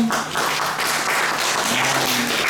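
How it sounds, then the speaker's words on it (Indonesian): Steady crowd applause fills the whole stretch, a dense wash of clapping with a faint tonal hum underneath. "Tepuk tangan dong buat kami semua."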